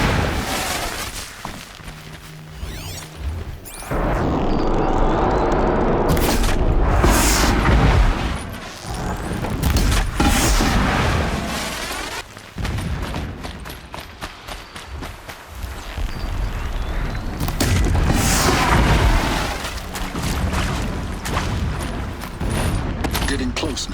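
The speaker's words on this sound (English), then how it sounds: "Explosions in the distance." Distant explosions in the video game Horizon Zero Dawn rumble as a series of dull booms and bursts, mixed with footsteps, mechanical sounds and a voice talking over them.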